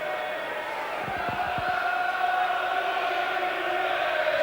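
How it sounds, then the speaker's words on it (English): A Charlton crowd roars in support before a corner during a 1993/94 match against Leicester City, a steady distant swell of massed voices in the stands that holds throughout, with a few thuds near the start. "Charlton crowd getting behind them for this corner."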